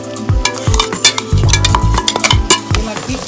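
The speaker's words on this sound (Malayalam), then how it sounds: "ഇളക്കി യോജിപ്പിക്കും." A spoon stirs ground green chilli paste into chicken dum biryani masala in a pan, with loud, close scraping strokes and a soft sizzle underneath, and no voices.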